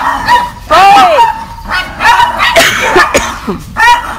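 Dogs barking at home, sharp repeated woofs and yips in quick bursts, close and loud, with some whimpering between barks.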